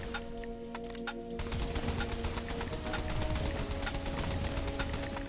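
Rapid, evenly spaced shots from a penetrating ranged weapon in a zombie survival video game, a fast mechanical rattle at a high fire rate running continuously under a steady background hum.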